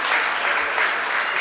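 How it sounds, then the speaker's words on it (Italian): Spectators at an indoor futsal match applaud sportingly, a steady, fairly close wash of clapping from the stands that holds an even level throughout. "Gli applausi sportivi"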